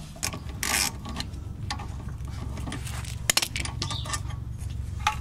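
A wrench works on the brake caliper nuts of a VW T4 van, 15 mm inner and 13 mm outer, during a disc brake swap: close metallic clicks, ratcheting and clinks of tools, with a sharp knock near the middle, over steady workshop hum.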